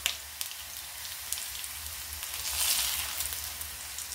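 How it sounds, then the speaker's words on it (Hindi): Gram flour frying in a pan with browned onions gives a steady, quiet sizzle and crackle that holds even throughout, with no voices. "बेसन को भी थोड़ा सा भून लेते हैं 1 मिनट के आसपास।"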